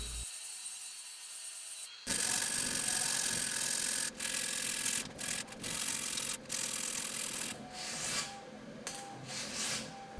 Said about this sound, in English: for the final cleanup I'm using strips of sandpaper since they conform nicely to the curved